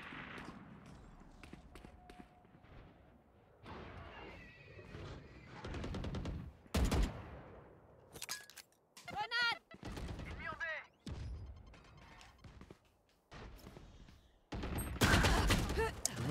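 Gunfire from the tactical shooter game Valorant during a ranked match, with short bursts and single shots mixed with other game sounds, heard under someone speaking French commentary.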